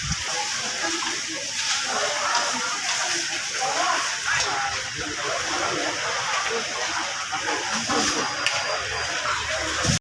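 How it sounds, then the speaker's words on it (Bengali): Water hisses and sizzles steadily as a fire at a torched petrol pump is doused, a continuous loud rushing spray with occasional splashes and crowd noise mixed underneath. "আগুন এখনও নিবাচ্ছে"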